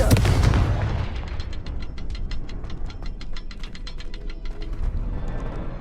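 A Confringo blasting spell goes off in Hogwarts Legacy, a loud burst at the start followed by crackling, popping debris and rumble that fades into a steady background din.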